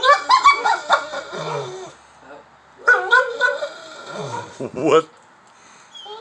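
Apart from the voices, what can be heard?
pit bull American Bully dog barking at neighbor's dog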